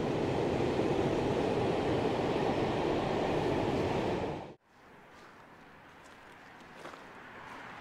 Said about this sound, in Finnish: Siellä mennään justi junaa päällä, niin kuin kuulet.